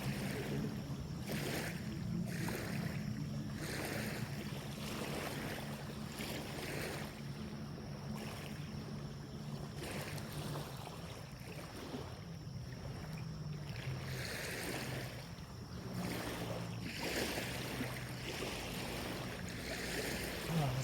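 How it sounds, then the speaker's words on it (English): Waves lap near the shore at a wild camping spot, a steady soft wash of water with gentle surges and a light wind, continuous and fairly quiet throughout. "The sound of the waves is so relaxing."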